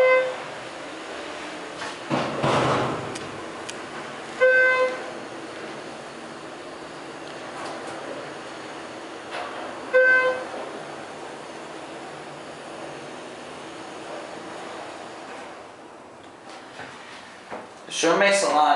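Schindler 330A elevator running in a parking deck: a low, steady mechanical hum with a few louder clunks and rattles spaced through, and a person speaking over it.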